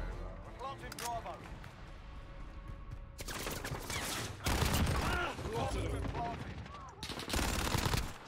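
Rapid automatic gunfire from Call of Duty: Modern Warfare, with a Fennec SMG among the weapons, crackling in repeated bursts that grow louder midway, mixed with game callouts and players talking over it.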